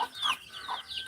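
Farm chickens gathering at feeding time give a couple of soft, close clucks and squawks, with quiet scratchy background noise.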